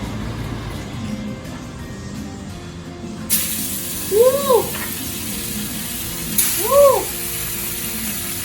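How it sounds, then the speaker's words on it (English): Sous-vide pork chops hitting a hot pan, a loud sizzle bursting in and holding as a steady hiss, swelling again a few seconds later, with excited whooping voices over it. "We got a hot sizzling pan over here."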